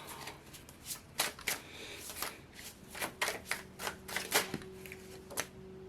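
A deck of tarot cards is shuffled by hand, giving a run of crisp riffling bursts and soft slaps in an irregular rhythm, close and fairly loud, with a faint steady hum underneath and no speech.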